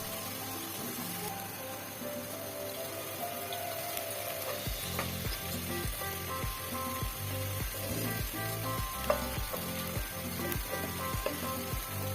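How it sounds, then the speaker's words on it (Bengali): Onions fry in a pan for a chicken roast, a constant close sizzle overlaid from midway by a regular run of rhythmic scraping strokes as they are stirred, with no voices. "পেঁয়াজ লাল করে ভেজে নিব তারপর বাকি মশলাগুলো সব দিয়ে দিব ভালো করে কষিয়ে"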